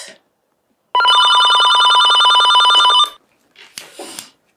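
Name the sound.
telephone ringing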